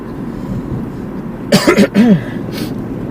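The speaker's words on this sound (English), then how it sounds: "I should iterate that is a vaping cough" A short burst of dry coughing from vaping, three or four quick hacks close to the mic, over a steady low background rumble of a moving car.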